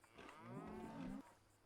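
A single cow in the video game Fallout 76 gives one drawn-out moo, rising and holding for about a second before cutting off, clear and close but fairly quiet.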